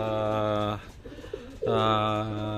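Loud, close cooing from a racing pigeon, a low throaty call that pauses briefly before resuming, with a few soft sounds in the gap.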